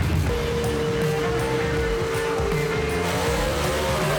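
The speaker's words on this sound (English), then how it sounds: "This is a hell of a drag race right here, boys." A 1955 Thunderbird and a 1955 Chevy gasser drag racing, engines roaring as one steady, loud, rumbling drone with a sustained engine tone throughout.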